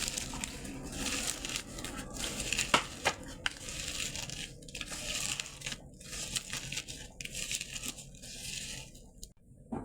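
Roasted eggplant is mashed by hand with toasted dried chillies, salt and oil, giving soft, irregular squishing and crushing sounds close by at low volume.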